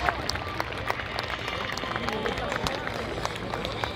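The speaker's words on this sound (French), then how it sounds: "On applaudit bien fort le capitaine Florent Odon de l'équipe de voltige de l'armée de l'air et de l'espace." An airshow crowd at Gap-Tallard applauds aerobatic pilot Captain Florent Oddon of the French Air and Space Force display team, scattered clapping heard at a distance beneath a background murmur of voices and open-air noise.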